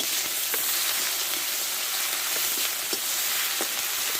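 Onion and garlic paste frying in hot oil with a bay leaf and panch phoron, a steady hiss of sizzling with faint occasional crackles, close and continuous with no talk.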